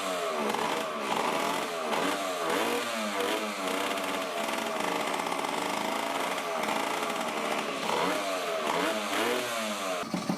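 A 1980 Yamaha GT80 two-stroke mini motorcycle engine runs close by with a buzzy, rattling idle and repeated revs rising and falling throughout.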